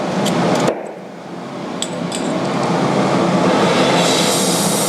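A gas torch flame roars steadily as it preheats brass for brazing, a continuous broadband hiss that dips briefly near the start and then holds loud and even, close by.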